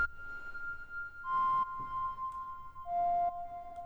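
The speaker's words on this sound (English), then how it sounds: "So I literally went into Diva and I found this slide flute" A slide flute preset from the Diva synthesizer plays a clean, simple melody of a few sustained, gliding notes, soft and alone with no other sounds.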